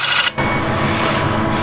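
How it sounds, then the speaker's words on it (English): A walnut and ash bowl spinning on a lathe is lightly scraped while rounding over its outside, giving a steady close rasping whir with a brief dip early on. "Round over on the outside, I'll just lightly scrape here."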